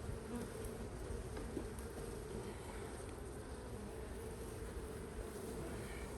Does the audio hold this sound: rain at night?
no